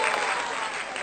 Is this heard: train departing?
no